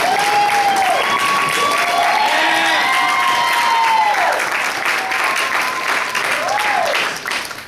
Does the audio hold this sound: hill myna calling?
no